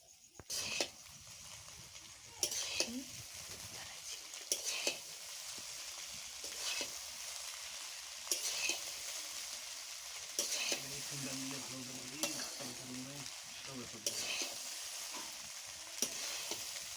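Fried rice stirred in ghee in a pan, a steady close sizzle and fry with repeated scraping stirs of a spatula at irregular intervals, no talking.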